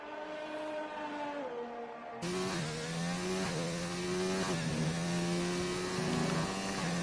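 A McLaren race car screams down the straight at the British GP in a racing game, its engine holding a high, steady whine that climbs through the gears with brief shifts. The sound is continuous and loud, with no talk over it.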